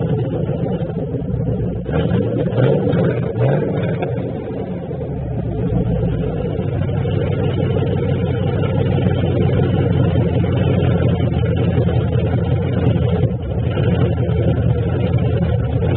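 A 2014 Chevrolet Camaro SS on drag radials rumbles through its exhaust, a loud, deep, continuous engine roar that rises and swells as it revs, with no speech.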